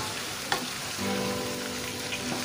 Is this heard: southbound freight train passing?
no